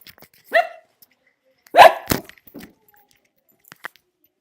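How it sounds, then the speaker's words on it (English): A dachshund indoors gives a few sharp, close barks and yips spread out with quiet gaps between, with a soft jangle or clatter near the end. "Sorry, I have a dog that's ready to bark."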